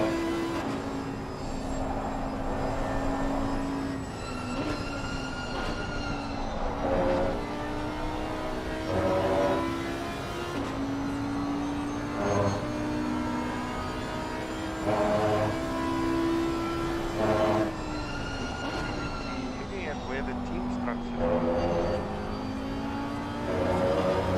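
Chevrolet race car engines drone in the ACC racing game, a sustained loud whine that rises and falls with gear shifts and revving, with other cars' engines layered alongside throughout.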